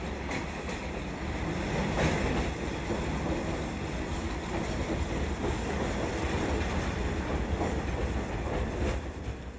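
A train rolls along the rails as it sets off from a station platform in 1965 China, a steady broadband rumble with faint clickety-clack from the wheels holding loud and near throughout, with no voices.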